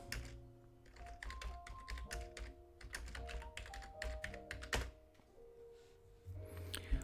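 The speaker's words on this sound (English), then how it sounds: "I just typed in municipal buildings in America" Fingers typing on a computer keyboard at close range, an irregular run of quick soft clicks and taps with brief pauses, over a faint steady hum.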